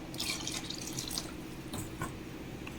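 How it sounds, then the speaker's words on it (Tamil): Water trickles and splashes steadily into a cooking pot of mushroom and drumstick kurma, a continuous soft pour with small drips, close but fairly quiet. "ஸோ இதே அளவுக்கு தண்ணி ஊற்றிக்கிறேன்"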